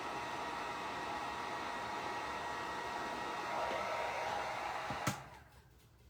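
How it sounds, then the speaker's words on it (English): Hair dryer blowing steadily on a freshly painted wooden primitive snowman craft, a continuous close airy whoosh for about five seconds before it clicks off, leaving a quiet room. "I'm going to dry it one more time."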